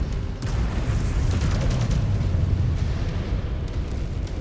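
A Fire Starter mech blowing up in MechWarrior 5: Clans, a loud rumbling explosion with crackling bursts that rolls on for several seconds at close range.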